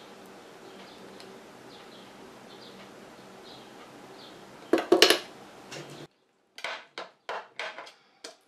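Homemade after-sun lotion made with mallow flower extract is mixed in a container: a low steady background, then a sharp burst of clinking and scraping, and afterward a series of short, spaced taps and stirs.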